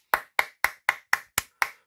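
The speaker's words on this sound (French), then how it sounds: "suivie de mes applaudissements" A single person claps hands seven times at a steady, even pace. Each clap is sharp and close, with nothing else heard.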